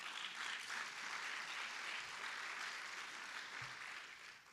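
An audience at a 2016 State of the City address claps for several seconds, a steady wash of applause from a crowd that fades slightly toward the end.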